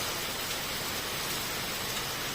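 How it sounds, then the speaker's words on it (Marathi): Heavy rain pours steadily and densely throughout, a continuous loud hiss of drops with no voices over it. "बघा किती पाऊस आलेला आहे"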